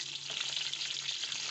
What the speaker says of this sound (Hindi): फ्राई करने के बाद इसमें गोभी फ्राई करेंगे।